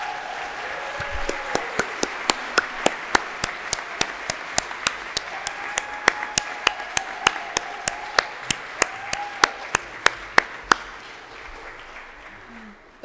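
An audience at a worship service claps in steady, evenly spaced beats for about eleven seconds, sharp and fairly loud over sustained background music, then stops.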